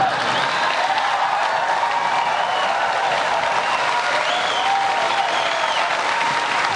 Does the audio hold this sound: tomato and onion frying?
no